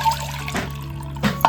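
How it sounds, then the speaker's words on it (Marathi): Water splashes over soaked soya chunks in a short run of pours and drips, a few distinct splashes close by over a low hum. "तर वरतून पाणी घालतोय परत."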